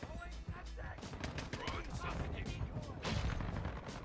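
Gunfire in Call of Duty: Modern Warfare II, dense rapid bursts of automatic shots and impacts crackling continuously, fairly faint overall, with game effects layered in.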